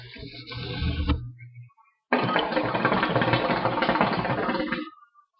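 A hookah smoked without a diffuser gives a harsh, rough bubbling roar. A short gurgling draw is followed by a pause, then a longer, louder, continuous churning pull of about three seconds.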